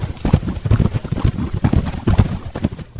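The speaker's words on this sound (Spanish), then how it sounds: "se escuchaba el galope furioso de un caballo negro." Galloping horse hooves, a black horse at midnight in a legend retelling, sound as steady rhythmic thuds at close range throughout, fairly loud with no talk over them.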